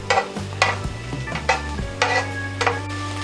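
Lumpiang tuna filling sautés in about two tablespoons of oil in a pan, giving a close sizzle broken by several sharp stirring scrapes, over a steady low hum, with no talk.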